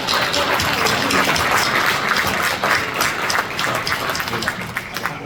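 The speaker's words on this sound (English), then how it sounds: "Let's give him a round of applause." Sustained applause from a crowd at a village board meeting, greeting the fire chief; dense, steady clapping at even loudness throughout, with no talking over it.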